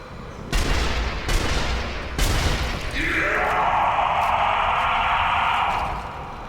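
Three loud, sharp sniper rifle shots in the video game Sniper Elite: Nazi Zombie Army, spaced about a second apart, followed by a sustained rushing, roaring blast that fills the rest of the scene.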